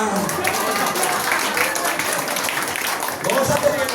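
Congregation applause at a church sermon, a dense steady patter of many hands clapping throughout, fairly loud and close, with voices mixed in under it.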